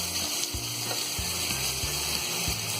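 Marinated minced mutton keema sizzles in a kadai with about a spoonful of hot oil, a steady close crackle broken by several sharp knocks of a spoon stirring against the pan.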